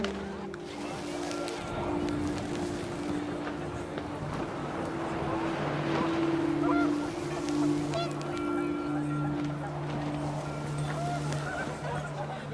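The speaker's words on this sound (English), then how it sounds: "The wind picked up, and panicked geese appeared and quickly went." Panicked geese honk repeatedly in the video game What Remains of Edith Finch, a dense, continuous flock clamor with steady tonal calls over wind and background noise.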